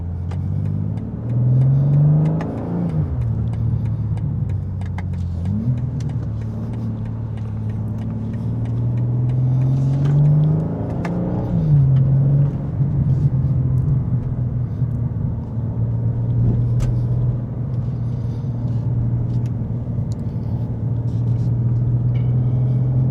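A 2025 BMW M2 in sport mode, its engine droning inside the cabin as it accelerates, the note rising through several gear changes over a steady low road rumble, with no talking.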